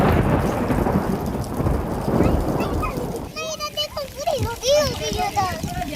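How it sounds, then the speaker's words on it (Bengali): Heavy rain pouring down at an outdoor riverside site as evening falls, a dense roaring wash with deep thunder rumbling at the start, fading as people talk over it in the second half. "তবে এটা ভাবিনি যে ওইখান থেকে এতটা দূর আস্তে আস্তে এত পরিমাণে বৃষ্টি শুরু হয়ে যাবে।"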